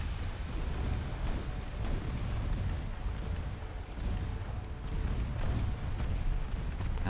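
Naval warfare in a game, with ships hit by torpedoes: a continuous barrage of low, rumbling booms and explosions rolls on with dense overlapping blasts at steady loudness and no pause.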